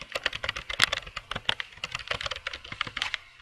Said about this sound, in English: input your username and password